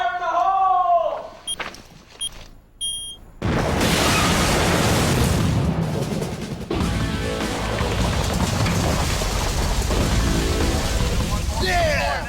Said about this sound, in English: When we blew the UXO inside the one tunnel under the main house of Haqqani's, it detonated a neighboring tunnel